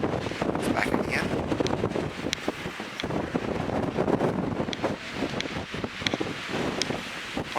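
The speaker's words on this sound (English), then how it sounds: "there's a brief dive down in the wind" Wind gusting at a mountain summit near Clingmans Dome, loud buffeting roars and rustling hit the microphone in uneven bursts for several seconds.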